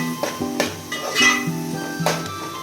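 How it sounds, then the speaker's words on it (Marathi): Onions frying in oil in a pan, with clinks and scrapes of a utensil stirring against the metal over a soft, low sizzle, heard up close with no talking. "बघा आपला कांदा शिजतोय, अजून शिजला पण नाही व्यवस्थित"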